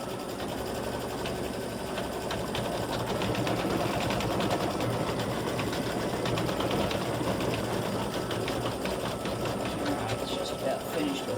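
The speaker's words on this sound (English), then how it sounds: "Color stop 14 is going to stitch her nose." Embroidery machine stitching the nose of a Thanksgiving gnome girl on an in-the-hoop mug rug, a steady rapid whirring rattle that runs loud and unbroken throughout.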